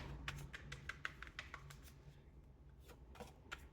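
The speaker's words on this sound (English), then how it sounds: "as I'm shuffling" A deck of tarot cards is shuffled by hand in a run of soft, rapid riffling clicks and taps, fairly close but quiet, with no talking.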